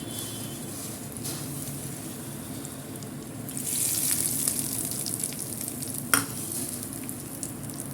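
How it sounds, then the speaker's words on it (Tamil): Hot sesame oil tempering with curry leaves poured into Andhra kara chutney, a soft crackling sizzle that swells partway through, with a sharp clink and some stirring. "தாளிப்பு சட்னியில் சேர்த்துக்கலாம்"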